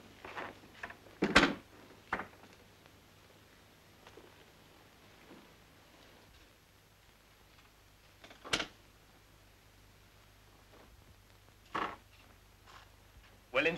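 A door opens and closes in a quiet interior in an old British noir film: a few soft thumps and latch clunks spaced far apart, with low background hum between them.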